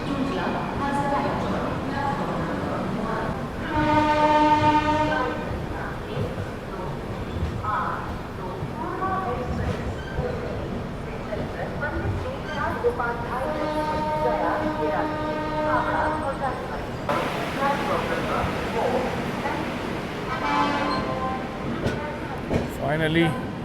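Heard from aboard the West Bengal Sampark Kranti Express as it overtakes the Magadh Express, a continuous train rumble fills the clip, with tonal horn-like blasts rising twice above it and voices faintly present.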